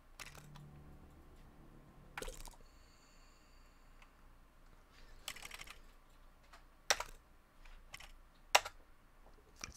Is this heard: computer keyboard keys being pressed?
yes